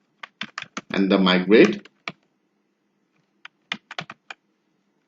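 Short bursts of computer-keyboard key clicks typing a command into a terminal, a few scattered taps before and after a stretch of speech, close and crisp in a quiet room.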